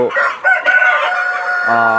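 A rooster crows loudly and close by over steady clucking from nearby Sonali and Tiger breeder chickens in a poultry shed.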